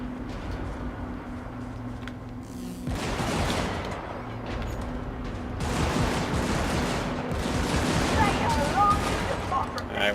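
The Dum Dum gun firing in a video game: repeated bursts of heavy gunfire with booming impacts in several clustered volleys, mixed with a steady engine hum under a player's talk.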